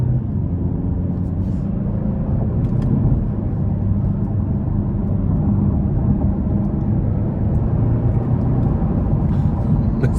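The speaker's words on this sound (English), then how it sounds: "So I'm gonna give it a pull getting on the interstate here." Steady low engine rumble from a 2024 Genesis G70 2.5-liter turbo four accelerating hard up an interstate on-ramp, heard from inside the cabin as a continuous, even drone with road noise and no talking.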